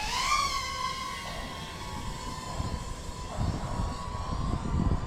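Motors of a Speedybee Mario Mini25 FPV drone spinning up after arming, a rising high-pitched whine with harmonics that steadies into a constant buzzing hum, close and fairly loud.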